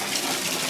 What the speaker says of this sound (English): We're just going to let my water fill up a little bit more